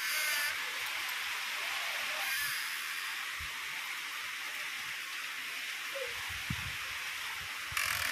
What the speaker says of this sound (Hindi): झमाझम मस्त वाली बारिश आ गई है